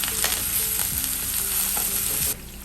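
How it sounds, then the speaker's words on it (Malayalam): Onion, green chilies and ginger garlic paste sauté in a hot pan, a steady loud sizzle with a few scrapes of stirring and no voices, the hiss dropping off sharply near the end. "ഒരു ഇച്ചിരി ഉള്ളിയും മൂന്ന് പച്ചമുളകും ഒരു ഇച്ചിരി ജിഞ്ചർ ഗാർലിക് പേസ്റ്റും എല്ലാം ഒന്ന് ജസ്റ്റ് ഒന്ന് സോട്ട് ചെയ്യാം"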